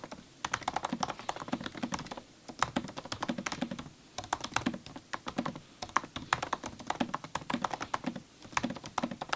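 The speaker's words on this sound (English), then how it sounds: "go to the next test, the keyboard sound quality" Rapid, close typing on a 2019 MacBook Pro keyboard, crisp clicky keystrokes in quick irregular bursts with brief pauses, no talking.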